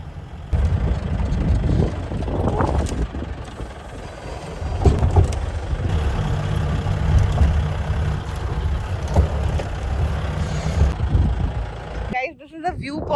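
An off-road vehicle grinds along a rough hill-station track at Vagamon, Kerala, its low engine rumble steady and close, with bumps and rattles surging here and there before cutting off near the end.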